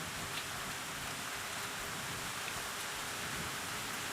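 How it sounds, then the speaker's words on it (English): Steady, soft rain falling in the medieval village setting of the video game Medieval Dynasty, an even hiss throughout with no other prominent sounds. "Looks like they're hiding from the rain."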